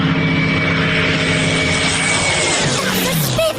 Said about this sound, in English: That's a Spitfire, one of the most famous planes of all time.